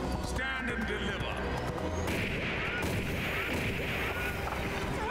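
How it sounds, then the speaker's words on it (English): Gunfire rings out in an animated Batman episode, sharp booming shots with hoofbeats and soundtrack beneath while people talk over it. "God, the sound of that gun is kind of wicked."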